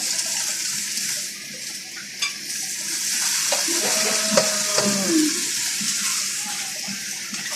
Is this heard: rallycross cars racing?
no